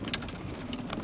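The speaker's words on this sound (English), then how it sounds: "The rain has come." Rain falling across an outdoor golf course, a steady soft patter of drops with a few brief, slightly louder splashes, heard alone at moderate distance for about a second.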